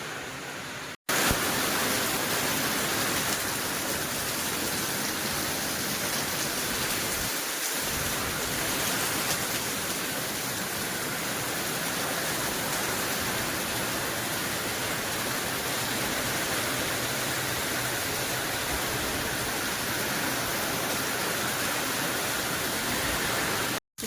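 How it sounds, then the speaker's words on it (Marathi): Heavy rain pouring down outside a rural home during a downpour, a dense, steady roar of falling water that fills the whole stretch with no pauses and no voices. "अचानक ना खूप जोरात पाऊस पडतोय खूप"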